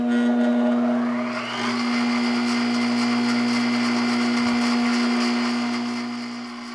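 A repaired bench grinder on its pedestal spins up and runs steadily, a loud continuous motor whine with a strong low hum, close by and alone, easing slightly at the end.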